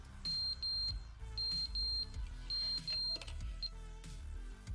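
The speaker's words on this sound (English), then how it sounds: "Annoying beeping time, let's go." Repeated electronic beeping in The Stanley Parable video game, a run of short, high, steady tones in irregular bursts over a low rumbling background, moderately loud.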